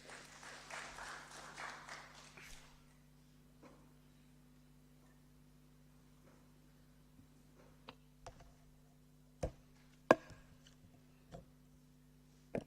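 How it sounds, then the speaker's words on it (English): An audience in a legislative chamber claps for about two and a half seconds, then the room falls quiet apart from scattered faint clicks and knocks. "You may clap for MEC Meth."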